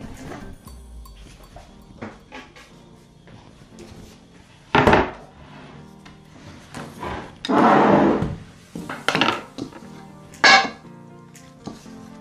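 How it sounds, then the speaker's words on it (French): Shortbread biscuit dough is worked on a wooden board, heard as sparse, close thumps and knocks with scraping and handling noises, separated by quiet pauses. "Continuez à bien pétrir."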